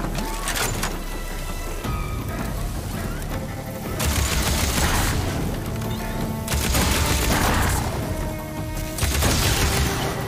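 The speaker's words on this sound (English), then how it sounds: "That's electricity chain reaction." Electric chain reaction explosions in Horizon Forbidden West, several loud bursting blasts arriving in waves with crackling decay between them, over game sounds.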